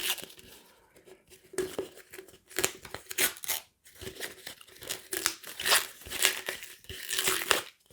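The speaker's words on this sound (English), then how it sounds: "let's rip it open" Wrapping being ripped open from a beer, a Jack's Abbey Lil Lemon Radler, making close crinkling and tearing sounds in uneven bursts with brief pauses.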